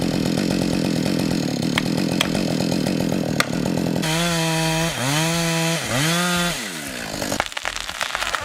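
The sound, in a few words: Husqvarna chainsaw cutting Norway spruce trunks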